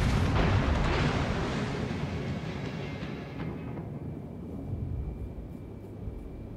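Battleship main gun firing in World of Warships, with the USS Wyoming battleship on the Strait map: a heavy, rumbling boom that rolls on for several seconds and slowly fades into low, steady noise.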